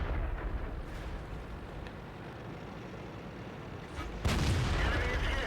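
A tank cannon shot in World of Tanks: after a few seconds of low battle rumble with faint clicks, a single sharp, loud blast erupts near the end and rings on with a heavy booming tail.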